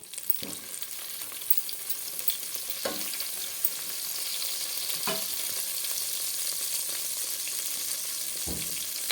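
Ghee sizzles steadily in a pan, a continuous bright hiss with a few soft stirring knocks spaced through it, close and fairly loud, with no talking.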